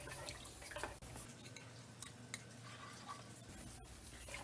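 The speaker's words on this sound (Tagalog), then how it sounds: "Haluin lang natin siya." Peanut butter being stirred into kare-kare in a pot over low heat, with faint scraping and clinks of a utensil against the pot and a little liquid movement, quiet and close.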